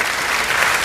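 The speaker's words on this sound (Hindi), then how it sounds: "एक बार तालियां बजा दीजिए और सुनिए" A crowd at a Hindi-Urdu poetry recital claps together, a loud, dense and even burst of applause filling the short moment with no talk.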